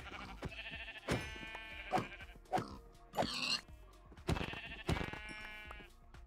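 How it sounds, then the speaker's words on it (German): Sheep bleating in the video game Minecraft, a series of short, clear wavering bleats repeating several times at moderate volume, alone without talk. "Oh, da ist noch ein Schaf."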